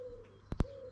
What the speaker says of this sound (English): the birds are singing and all is good in the world